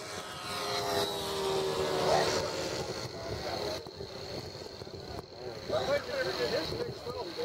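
A Durafly T-28 Trojan RC model plane makes a low pass with its wheels retracted, its engine a steady, moderately distant buzz that swells and fades slightly under wind noise while people talk nearby.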